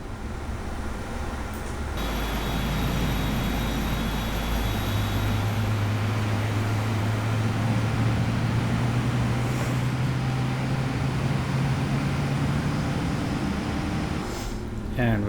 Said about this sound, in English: We'll go ahead and start engine 1.